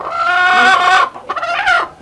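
Native Thai chickens cluck steadily beside an egg nest, a close, loud run of harmonic calls that breaks briefly and then resumes, with no talk.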